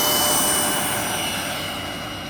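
A Hobbyking DH 100 Vampire MK 6 RC jet with carbon fiber mods takes off, its electric ducted fan giving a loud, steady, high-pitched whine that fades slightly as it moves away.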